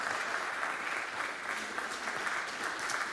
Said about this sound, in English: An applause for Sergei